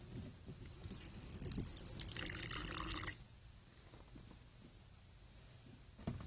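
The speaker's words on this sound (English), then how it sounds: "Okay, let's give him some water." Water is poured for a pet tarantula: a soft, quiet trickle runs for about two seconds and then stops abruptly, leaving a low hush.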